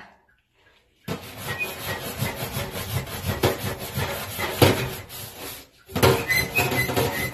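Scrubbing an air conditioner unit clean, with steady rubbing strokes close by that run in uneven bursts after a brief silence, pause once, then resume.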